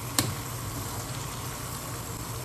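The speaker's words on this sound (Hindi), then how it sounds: "हाँ, मैं हलीम के लिए कर रही हूँ प्याज फ्राई" Onions frying in a pan for haleem in a home kitchen, a steady soft hiss and sizzle throughout with one brief sharp click near the start.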